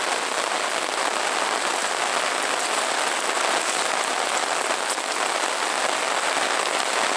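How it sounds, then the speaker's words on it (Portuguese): Steady rain pours down over the city of Sobral, Ceará, Brazil, a dense even hiss of drops hitting surfaces nearby, continuous throughout. "Essa chuvinha maravilhosa, molhando, abençoando aqui a nossa cidade de Sobral."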